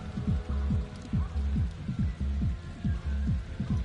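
Steady rain falls in the dark night setting of the video game Hidden Agenda, a continuous wash under a rhythmic, throbbing low music pulse, with no talking.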